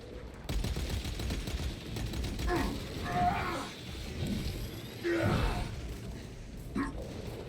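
Gunfire in the video game Warhammer 40k Space Marine II during co-op play comes in rapid, crackling bursts. Rougher effects and vocal sounds mix in between the volleys at a moderate level.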